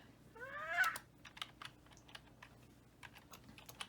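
Computer keyboard keys tapped out in a quick irregular run of close, light clicks, with a brief cat-like chirp near the start.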